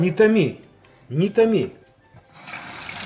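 Water begins to run from a kitchen faucet that has just been unclogged, a hissing rush starting near the end after two short spoken phrases, steady and close.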